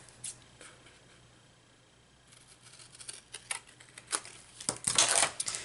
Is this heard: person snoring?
no